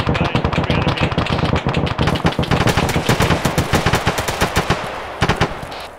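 Rapid bursts of automatic gunfire in a military video game, rounds aimed at an armed technical vehicle some 400 meters off, dense and loud with sharp repeated cracks throughout and a brief lull near the end.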